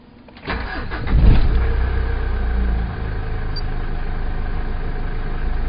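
A 2008 Mitsubishi Pajero diesel engine cranks briefly and fires up, then settles into a steady, close, loud idle with a slight dip in revs after a few seconds.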